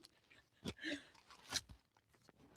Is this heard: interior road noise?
no